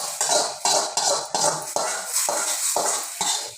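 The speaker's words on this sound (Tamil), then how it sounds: "கொஞ்சோண்டு நெய் போட்டு முந்திரியை நல்லா போன அந்த மாதிரி வறுத்துக்கணும்." Cashews roasting in ghee in a pan, with repeated metal spoon scrapes and clinks against the pan over a soft sizzle, close and fairly loud, with no talking.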